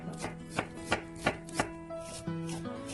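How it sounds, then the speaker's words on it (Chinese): Knife chopping through onion on a cutting board, with about six crisp, evenly spaced thuds over steady background music. Close and distinct, no talking. "洋葱先切片，"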